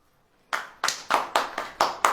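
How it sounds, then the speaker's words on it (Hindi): Audience members at a Hindi Christian sermon gathering clap in unison, six or seven crisp, evenly spaced claps after a brief silence, close and moderately loud. "ताली बजाओ,"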